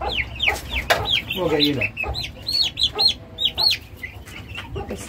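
Turkeys cluck and call close by in short, repeated bursts, with someone talking over them.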